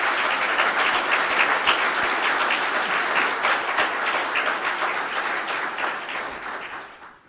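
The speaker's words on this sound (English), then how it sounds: "So I think it deserves a round of applause" Applause from the audience at the 2017 Wixom State of the City address, a strong, crowded burst of clapping that holds steady for several seconds, then gradually thins and fades out.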